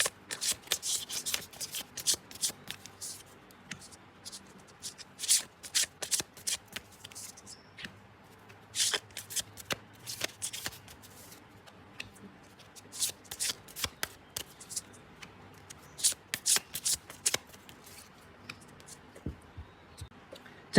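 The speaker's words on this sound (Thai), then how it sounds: "เดี๋ยวผมจะสับให้สักครู่นะครับ" Tarot cards are shuffled by hand in a steady stream of crisp riffling and slapping bursts, close and clear, with brief pauses between runs and no voice.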